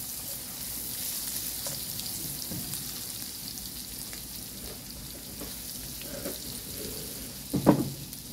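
Garlic sautéing briefly in a pan after onions, a low steady sizzle with faint scattered stirring taps and one louder clatter of a utensil near the end; no voices.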